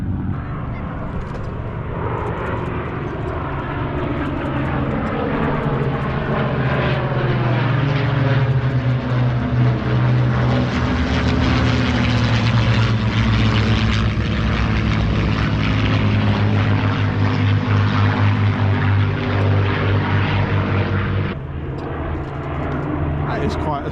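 Blenheim, Spitfire and Mustang propeller aircraft pass over an air show, a loud, sustained engine drone that swells and holds for most of the stretch before cutting off, with people talking over it.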